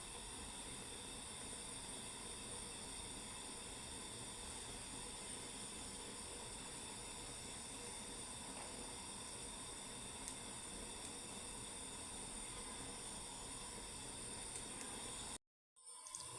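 Dried chili held on a stick roasts over a kitchen stove flame, giving a faint, steady hiss that runs without a break until it cuts off sharply just before the end.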